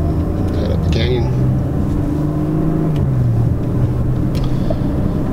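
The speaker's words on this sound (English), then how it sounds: "go for a drive in a Porsche Macan Turbo" A 2015 Porsche Macan Turbo, a 400-horsepower all-wheel-drive SUV in sport mode, climbs a canyon road with a steady, loud engine drone whose pitch rises and falls under constant cabin noise.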